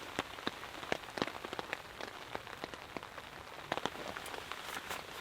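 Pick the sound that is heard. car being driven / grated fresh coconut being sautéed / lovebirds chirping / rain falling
rain falling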